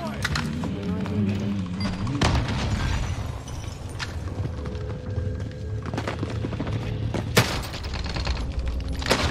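Dense, continuous gunfire and explosions from the Call of Duty Rebirth Island battle royale game, with several sharp cracks standing out over a busy, loud mix, while players talk throughout.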